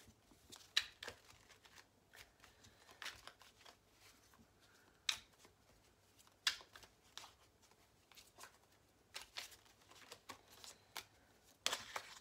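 Playing cards shuffled by hand during a tarot-style reading, a run of soft papery riffles and flicks, quiet and close, scattered across the stretch with gaps between bursts.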